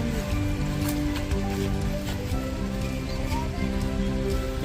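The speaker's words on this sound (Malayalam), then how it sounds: "ഗൈസ് ഇവിടെ ശക്തമായ മഴയുണ്ട്" Heavy rain pours steadily at a school ground during the monsoon, a dense continuous patter on surfaces with no break.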